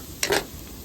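Squid balls and kikiam fry in a pan with a low, steady sizzle, broken by two quick scraping knocks as they are stirred, then the frying carries on quietly.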